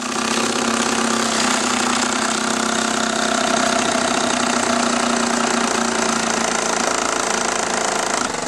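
Mamod SP1 toy steam engine on live steam driving a model workshop, a loud, continuous mechanical whirring and rapid chuffing rattle with dense clattering, steady throughout and close by, with no talking.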